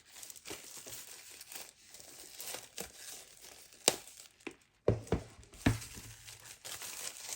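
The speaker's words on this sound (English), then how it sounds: "the most exciting part is pulling off the plastic" Plastic shrink wrap is peeled and torn off a Highlander Studiocanal limited edition 4K box set, producing close crinkling and crackling with sharp tearing bursts, irregular and loud against a quiet room.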